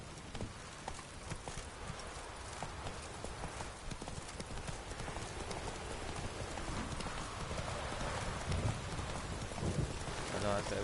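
Rapid clip-clop of a horse's hooves galloping steadily over ground after a rider urges it on, close and continuous, with a patter like rain beneath and a brief whinny near the end.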